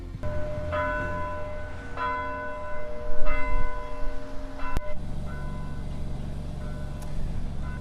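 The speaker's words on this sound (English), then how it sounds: "This bell was heard across Greenfield close to 3:42 this afternoon." A large bell tolls slowly in Greenfield, Iowa, on the tornado's one-year anniversary, several deep ringing strikes a little over a second apart, each leaving long humming overtones, with low traffic rumble underneath.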